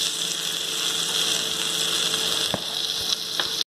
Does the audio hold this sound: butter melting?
yes